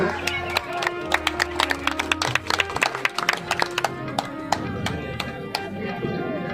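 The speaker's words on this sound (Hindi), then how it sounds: "तो एक बार फिर से केसरराम जी के लिए जोरदार तालियां" An audience at a headmaster's retirement ceremony at a rural school applauds, a ragged burst of many claps with sharp individual hits over a faint background hum, tapering off toward the end.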